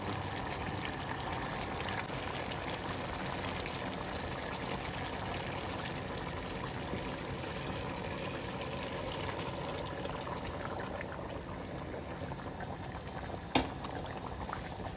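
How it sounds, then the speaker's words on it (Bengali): A pot of Hungarian beef goulash bubbling after boiling water is added, a steady close simmering and gurgling that continues throughout with one brief knock near the end. "জলটা ফুটিয়ে দিয়ে দিলাম এতে।"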